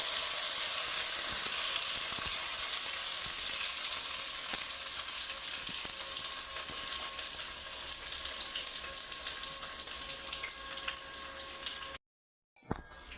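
Fish grilling on a banana leaf in an oiled pan gives a continuous loud sizzle and crackle, steady and close, before cutting to near silence at the end.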